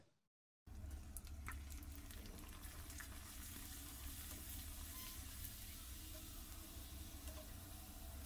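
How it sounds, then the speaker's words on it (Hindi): Sago papads frying in hot oil, a quiet start breaking into a sudden, steady bubbling sizzle with light crackles that carries on evenly, no voices. "ऑयल गरम हो गया है इसमें हम पापड़ों को डाल देंगे और इनको फ्राई कर लेंगे"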